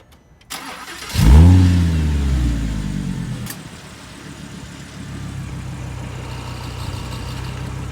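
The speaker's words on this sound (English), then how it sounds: "I'll give you a little bit of engine note while I'm at it" A 2014 Audi R8 Spyder's engine cranks and roars to life with a loud rev, then settles into a steady, rumbling idle close by.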